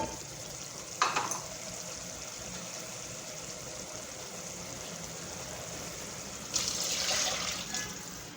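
Water is poured into a cooking pan for noodles, a brief splash near the start and then a longer hissing pour toward the end, quiet and close.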